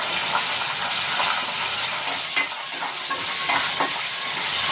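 Whole spices crackle in hot oil for misal, making a dense, close sizzle with sharp pops scattered through it and no voices.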